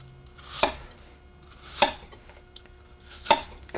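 Three separate knife chops through food on a cutting board for mulligatawny soup, each a sharp, close thunk spaced about a second apart, with quiet in between.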